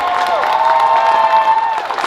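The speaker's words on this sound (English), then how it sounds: "can we get a massive round of applause for all the guests that were able to come here" A convention crowd at Kumoricon 2021 applauds and cheers for its guests of honor, a dense, continuous roar of clapping and whoops filling the hall.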